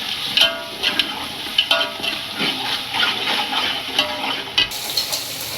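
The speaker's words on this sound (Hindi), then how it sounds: "प्याज और अदरक लहसुन हमने फ्राई कर लिया। अब टमाटर डाल दिए, हरी मिर्च ऐड कर लिया" Onion, ginger, garlic, tomatoes and green chilli frying for a biryani, a steady close sizzle with sharp stirring clatters and scrapes at irregular intervals, no talking.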